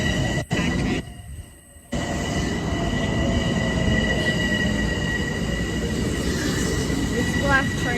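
Train passing through Mineola station, a loud, sustained rumble of rolling railcars with faint wheel squeal, close by, and brief quieter dips near the start.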